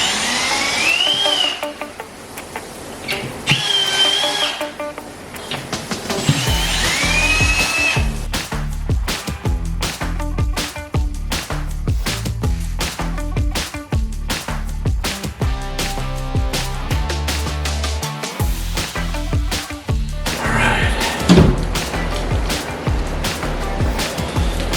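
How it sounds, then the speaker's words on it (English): Drywall panel being unscrewed and pried off a wall in a moldy homestead house, with a drill whine early on, then repeated sharp cracks, thumps and scraping of gypsum board, close and busy throughout. "we'll take this drywall off and see what's behind it"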